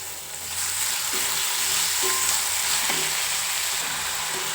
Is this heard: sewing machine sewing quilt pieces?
no